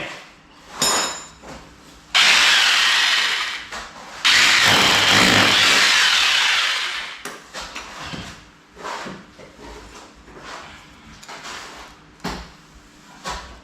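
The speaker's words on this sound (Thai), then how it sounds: "เจาะเสียบเหล็กทุกชั้นนะครับ เพื่อความแข็งแรง" A power drill whirs loudly in two sustained bursts drilling steel rods into each layer of a DIY kitchen counter, separated by a brief pause, followed by scattered knocks and handling sounds.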